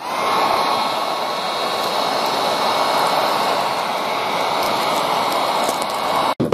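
A heat gun blows hot air steadily onto plastic on a pumpkin creature prop, a constant loud airy whoosh with no pauses and a brief knock near the end.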